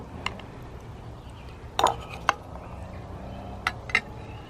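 A spoon scoops rhubarb strawberry crisp out of a baking dish, giving a few sharp clinks and scrapes against the dish, spaced apart over a quiet kitchen background.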